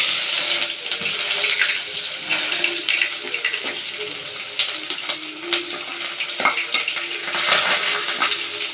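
Onions frying in a pan for vegetable biryani give a steady, close sizzle throughout, with occasional light clatters of stirring over the constant crackle.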